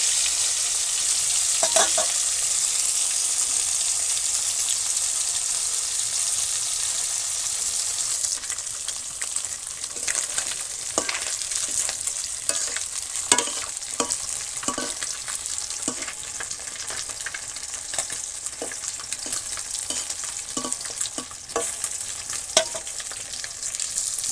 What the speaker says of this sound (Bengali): দিয়ে দিলাম এটা ভাজবো